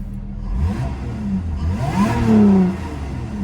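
Lotus Evora 400 with sport exhaust and valves closed, engine revving up then settling; a rising, smooth mid-pitched engine note swells loud around the middle of the clip and eases back to a steady idle, with no talk.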